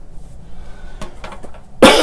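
A single loud, harsh cough bursts out near the end after a quiet stretch with a few faint clicks and rustles.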